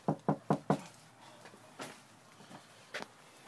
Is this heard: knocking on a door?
yes